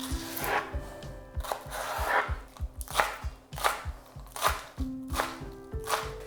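A knife chops spring onion into fine pieces on a board, a quick steady run of close, crisp taps with brief pauses.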